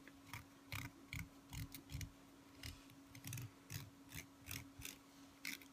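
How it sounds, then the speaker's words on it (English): Repeated short rasping strokes of a nail file trimming off the excess edge of a Jamberry nail wrap, filed downward in a quick, steady rhythm close up, with a constant low hum behind. "you're just filing off the excess"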